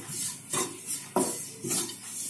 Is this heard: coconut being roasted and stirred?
yes